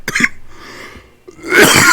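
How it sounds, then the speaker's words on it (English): Two bursts of harsh coughing while coughing up a bit of sausage, a short one at the start and a louder, longer one near the end, with a quiet gap between, heard up close with no talking. "just coughed up a bit of sausage"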